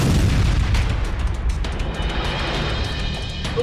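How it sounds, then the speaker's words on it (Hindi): A rocket fired at a tank in fighting in Rafah, Gaza, heard as a loud, sustained rumbling boom that fills the clip and slowly fades, with no talk. "इसके बाद एक दूसरा रॉकेट एक अन्य टैंक पर फायर किया जाता है"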